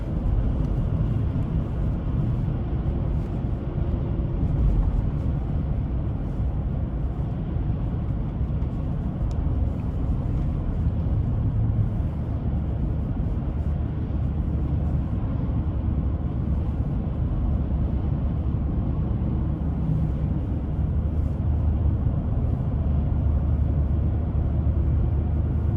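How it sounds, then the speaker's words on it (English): A 2011 Chevrolet Silverado 1500 LT extended-cab pickup with 162K miles accelerating under throttle, heard from inside as a steady low engine drone and road rumble that holds evenly throughout with no talk. "We'll give it some throttle here. Definitely gets up."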